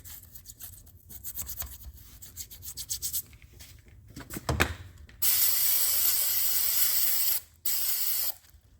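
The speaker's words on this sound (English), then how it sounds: "Really scrub in there. I use a toothbrush." A toothbrush scrubs an aluminum Mercedes M113 cylinder head coated in Grez Off degreaser with quick, close rubbing strokes, followed by two loud, sustained bursts of spray.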